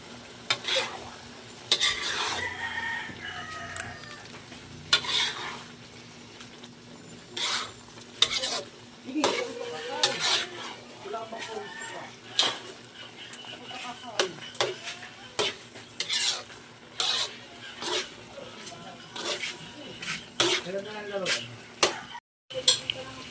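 Sinantol simmering in a pot over a stove, seasoned with salt, pepper, garlic and lemongrass, with repeated stirring scrapes and clinks of a utensil against the pot over a steady low sizzle, close and moderately loud.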